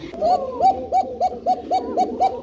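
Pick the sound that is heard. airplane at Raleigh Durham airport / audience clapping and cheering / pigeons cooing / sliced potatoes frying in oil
pigeons cooing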